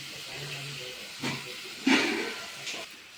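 Steady steam hiss rises from a covered pan of salted breadfruit vegetable cooking, with a few soft knocks and bumps breaking the even hiss.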